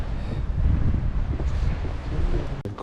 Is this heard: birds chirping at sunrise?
no